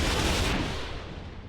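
Anti-missile and CRAM turrets firing in the naval combat game From the Depths, a dense, continuous roar of rapid gunfire that stays loud throughout and tapers slightly toward the end.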